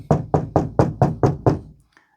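Seven even knocks rap on a wall board in a workshop storeroom while searching for a stud, close and hollow, then stop, with no talk.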